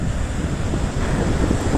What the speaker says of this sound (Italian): In quest'isola il mare è agitato.